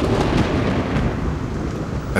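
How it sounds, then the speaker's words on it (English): Torrential rain pours down during a Sahara desert thunderstorm, a dense, loud roar with thunder rumbling beneath and no voices. "At last, these storms arrive and bring with them the longed-for waters."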